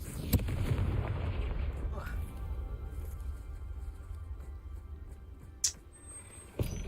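A Confringo fire spell in Hogwarts Legacy, cast in a spider-filled cellar, lands as sharp explosive bursts near the start and again near the end, over a steady low rumble of game ambience.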